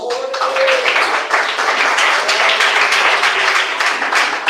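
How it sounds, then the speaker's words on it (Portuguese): A church congregation claps hands together in steady, rapid, fairly loud rhythm, many close claps blending into a continuous patter with voices faintly beneath. "Assenta, bate palmas."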